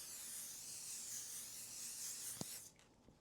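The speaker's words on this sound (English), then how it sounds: "we're gonna go in with the L'Oreal Infallible 3-second setting spray." An aerosol of L'Oreal Infallible 3-second setting spray releases a steady, close hiss for about two and a half seconds, then cuts off sharply into near quiet.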